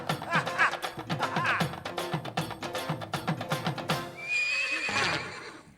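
A horse on a comedy stage show, with a steady run of close clip-clopping hoofbeats followed by a loud, high whinny near the end.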